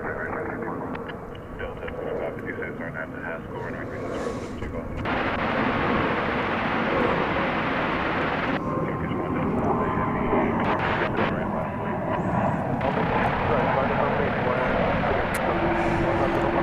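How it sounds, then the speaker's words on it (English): A Turkish Airlines Dreamliner jet takes off from the west side of DFW Airport, a loud continuous roar of engines building in strength over the runway while a person talks over it and radio chatter drifts in. "Turkish Dreamliner will be taking off from over here on the west side."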